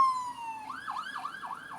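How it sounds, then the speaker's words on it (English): A fire truck siren wails outdoors at a moderate distance, a steady falling tone that breaks into a rapid rising-and-falling yelp, loud and clear with no talk over it. "That's a fire truck"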